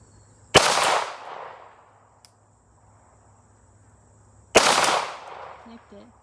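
Two sharp, loud gunshots from a custom-built Glock 40 10mm pistol crack about four seconds apart outdoors, each trailing into a long echoing decay, with crickets faintly chirping in between.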